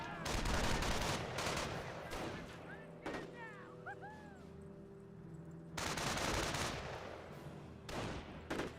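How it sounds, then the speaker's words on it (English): Rapid machine-gun bursts from an MG42 in the strategy game Company of Heroes, loud clusters at the start and again after a lull, mixed with other battle noise and under a commentator's talk. "MG42 suppressing this formation."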